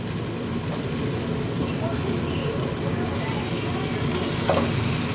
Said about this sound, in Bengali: এবার আমি জল ঝরানো চিকেনগুলো দিয়ে দেব